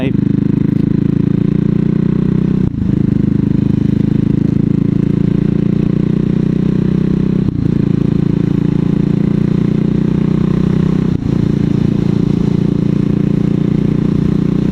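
A CCM Spitfire bobber motorcycle's engine is opened up while riding, a loud continuous low roar that holds steady, briefly dipping at three gear changes, with wind rush over it.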